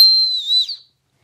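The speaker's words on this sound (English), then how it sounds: "This is literally a whistle that mounts in place of a duct." A single shrill, high whistle blast from a whistle mounted in place of a duct, lasting under a second, slightly wavering in pitch before cutting off, loud and close.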